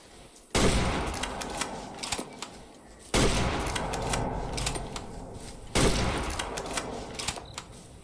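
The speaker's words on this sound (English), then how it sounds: "I will shoot you." Three loud gunshots from the hunting game Way of the Hunter 2, each a sharp close blast followed by a long rumbling echo that fades over a couple of seconds, no talk.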